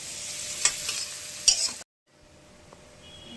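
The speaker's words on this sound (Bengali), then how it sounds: "পেঁয়াজটা একটু লাল করে ভাজা ভাজা হয়ে যায়" Onions frying and sizzling in a pan ahead of adding spice paste, a steady bright hiss with a couple of stirring knocks, then a sudden drop to near silence with faint clinks.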